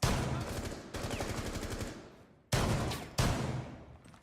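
Rapid rifle fire in the video game Rainbow Six Siege crackles in several sustained bursts with short gaps between them, close and sharp, each burst fading at its end.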